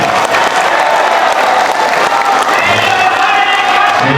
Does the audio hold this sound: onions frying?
no